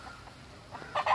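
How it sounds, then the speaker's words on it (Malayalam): A country chicken of a different breed gives a couple of short close clucks at the end of a quiet moment. "വേറെ ഐറ്റം കോഴിയാണിത്."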